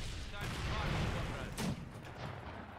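Distant, faint machine-gun and gunfire rattle in Company of Heroes during a 4v4 Essen Steelworks battle, a dense crackle with one sharper shot, low in level.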